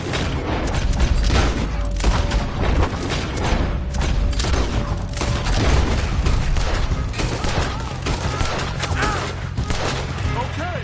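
Gunfire from the video game Red Dead Redemption 2: a dense, continuous barrage of overlapping shots and booms fills the whole stretch, loud and unbroken, with a voice faintly mixed underneath.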